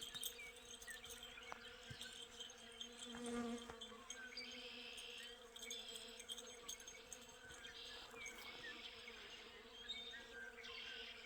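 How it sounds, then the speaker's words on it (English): Bees buzzing among budding, blooming trees on a spring homestead, a steady faint outdoor insect drone with scattered higher chirps throughout, no voices. "Can you hear the bees in the trees?"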